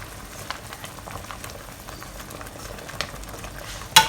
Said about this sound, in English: We let them set for 5-10 seconds before we stir them. Give them a gentle stir.